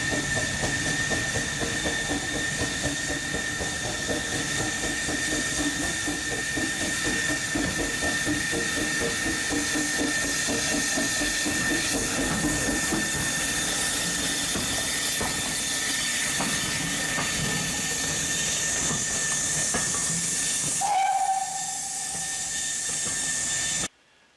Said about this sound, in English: there's also some more pictures of a Gauge 1 model that you can see running here